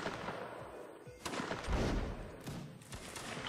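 Scattered musket fire in a line-battle video game, sharp cracks and a rolling volley heard faintly amid background noise and muffled voices.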